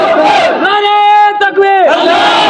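Protest crowd near Bari Brahmana Telli Basti chanting in unison, a loud sustained collective shout rising and holding, with a brief dip in the middle before the massed voices surge again.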